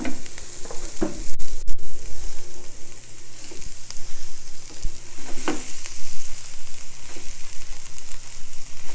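Kale hits a pan of sautéed onions, crackling and sizzling steadily, with a few sharp clatters of the utensil against the pan near the start.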